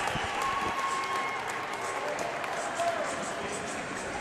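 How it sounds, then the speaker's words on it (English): A high school hockey crowd at a St. Charles district semifinal game roars and cheers steadily, a dense, sustained wash of noise with scattered whistles and shouts. "you get to hear the St. Charles crowd behind us. Absolutely euphoric."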